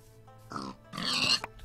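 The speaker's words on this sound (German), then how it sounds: "Hi, Schweinchen." Pigs in Minecraft give two short grunts, a brief one followed by a longer, fuller one, fairly close and clear with no talking.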